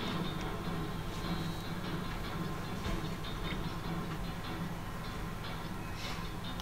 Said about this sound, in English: Some more train.